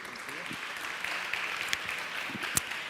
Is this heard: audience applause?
yes